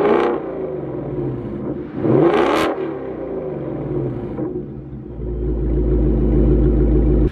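A 2024 Ford Mustang GT with a double H exhaust revs up close, its deep, growly rumble rising sharply in two quick surges before settling into a steady idle with a low, booming drone.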